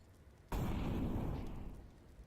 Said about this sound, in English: Grim's going to get the audio cue of a flashbang clear in middle.